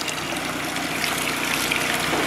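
Rinse water flows out of a car radiator during a flush, a continuous loud rushing gush with a steady pumping undertone, heard alone.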